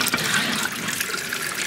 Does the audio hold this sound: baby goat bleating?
no